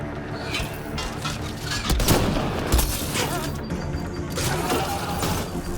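Gunfire in the video game Mass Effect Andromeda, dense bursts of shots and booms layered with mechanical clatter, loud and continuous throughout.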